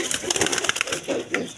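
A pair of Kaldum pigeons, a hen and a cock, give soft, repeated cooing and low calls at close range over rustling handling noise.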